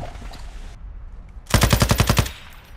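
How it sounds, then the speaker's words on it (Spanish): Gunfire in Call of Duty: Modern Warfare II, a loud burst of about eight rapid automatic shots in steady rhythm, close by, following a stretch of quieter game ambience. "Me están disparando."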